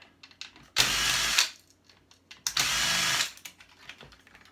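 A power driver backs screws out of an aluminium case in two loud whirring bursts, the second longer than the first, with small clicks and handling noises before, between and after them.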